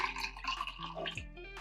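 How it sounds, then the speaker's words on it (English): Freshly made coffee is poured into a glass, giving a quiet, continuous liquid trickle with a faint rising tone that runs for under two seconds. "Okay, so I've made some coffee over here, which I'm going to pour into"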